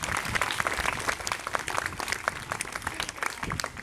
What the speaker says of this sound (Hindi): बिल्कुल सही कहा बेटा, तालियां अपने लिए,